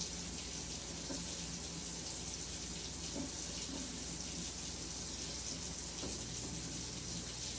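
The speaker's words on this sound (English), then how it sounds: "Now, I'm going to pour water in my drip coffee maker." Continuous stream of water pouring into a drip coffee maker, a steady hiss and trickle throughout with faint clinks, no talking.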